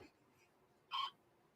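A baby lets out a single short burp, a brief bright hiccup-like sound near the middle, amid quiet breathing in an otherwise calm room.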